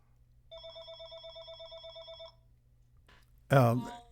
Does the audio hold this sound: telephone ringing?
yes